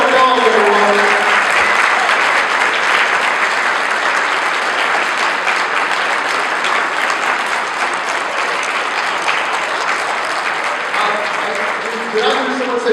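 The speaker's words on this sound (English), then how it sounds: "Big round of applause, everyone." Audience at an autumn cabaret giving a big round of applause, dense loud clapping that fills the room and holds steady throughout, with a voice briefly audible near the start.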